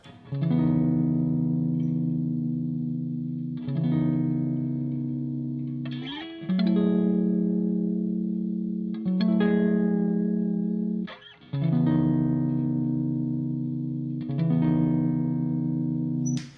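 Deep, warm electric chords strummed on a Bass VI on the neck pickup with the strangle switch engaged ring out in slow succession, each sustaining for a couple of seconds before the next.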